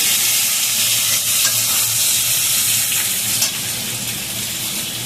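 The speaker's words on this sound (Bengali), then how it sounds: "আর এবার আমি বেগুনটাকে একটু ভেজে নিচ্ছি" Eggplant frying in oil in a pan, a loud, dense, steady sizzle close by that holds evenly for the whole stretch, with faint stirring underneath.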